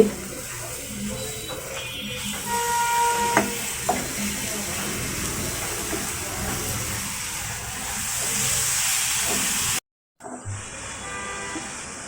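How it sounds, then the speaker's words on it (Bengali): A filling of coconut, sesame and jaggery being stirred in a pan, giving a continuous close scraping and soft sizzling with faint traffic and a distant horn in the background, briefly cut near the end. "আমি নারিকেল তিল গুড় একত্রে মিশিয়ে এটা পুর তৈরি করে নিচ্ছি"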